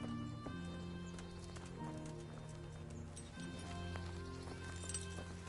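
Steady clip-clop of horse hooves in the medieval video game Kingdom Come: Deliverance, a continuous walking rhythm under game music and ambience.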